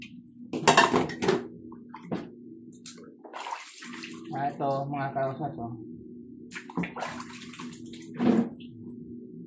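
Water spraying and splashing while a dirty household water purifier is washed out, bursts of running and gushing water coming and going, close by, with a person talking over it.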